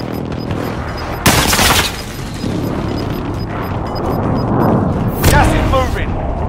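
Close air strike in a video game: loud booming bursts and crackling fire break out at the start, with another heavy blast near the end, over continuous rumbling combat noise and radio chatter.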